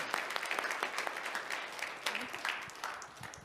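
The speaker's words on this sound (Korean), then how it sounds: "와, 박수." A church congregation at an evening revival meeting claps. The applause is faint and distant, with irregular sharp claps spread over a few seconds and a few voices mixed in.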